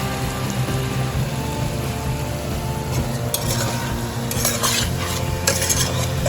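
A spoon stirs lemon pepper chicken gravy with chili powder, cumin and black pepper in a pan, scraping and clinking against the metal over a steady low sizzle, with brighter scrapes toward the end.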